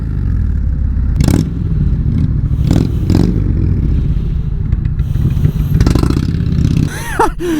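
A Ducati Diavel motorcycle is ridden, and its steady engine drone rumbles throughout under rushing wind, with a few louder surges and clattering thumps. A short squeaky chirp comes near the end.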